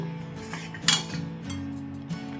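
Mysore pak mixture with ghee being stirred in a pan, close and fairly quiet, with a steady scraping and clinking of a utensil against metal and one sharper knock near the middle.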